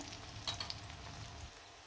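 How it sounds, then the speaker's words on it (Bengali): Chopped onion and green chili frying in a pan, giving a faint, steady sizzle with a few light clinks of stirring. "কুচি কুচি করা পেঁয়াজ আর কাঁচামরিচ দিয়ে ভালো করে নাড়াচাড়া দিয়ে দিব"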